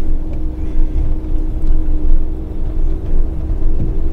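Steady road and engine rumble from inside a camper van on General Grabber AT3 tyres driving in bad weather, a loud continuous low drone with a faint hum and no talking.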